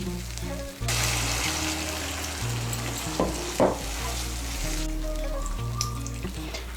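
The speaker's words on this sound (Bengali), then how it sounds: "এর মধ্যে মশলার বাটিগুলো ধুয়ে আমি 1 কাপ গরম জল দিচ্ছি" Hot water poured into a pan of pointed gourd and spices, bringing a sudden rush of hissing sizzle that holds steady, broken by a few sharp splashes and spoon clatters near the end.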